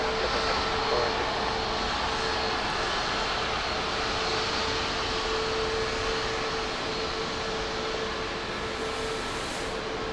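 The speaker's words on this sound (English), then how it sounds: "You hear a plane about to park itself at the terminal" At Dallas Love Field an airplane taxis toward the terminal, making a steady, loud jet-engine roar with a constant whine held throughout.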